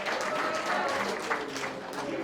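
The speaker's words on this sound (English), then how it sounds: "Let's give him another round of applause." An audience at a Black History event at a church hall gives a round of applause, a continuous crowd clapping at moderate level throughout, with some murmured voices mixed underneath.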